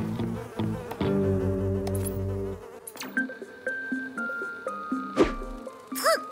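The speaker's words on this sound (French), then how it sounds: "C'est étrange, toutes ces mouches autour de Sam." Cartoon flies buzz in a shifting, whiny drone with musical tones and a chime-like ding through the scene, loud and close, with no talk over it.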